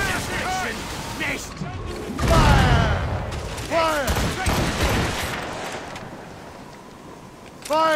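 Cannons boom in a naval battle in the Assassin's Creed Rogue video game: heavy, rumbling blasts arrive in scattered volleys amid battle noise, while voices shout over the gunfire.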